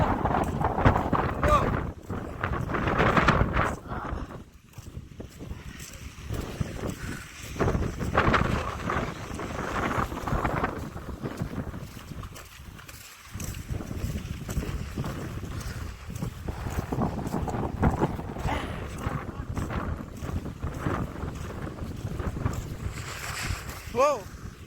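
Violent gusting wind of about 70 to 90 km/h roars steadily and loudly at a home with a rooftop antenna, rising and falling in long surges with brief lulls, while a voice talks intermittently over it.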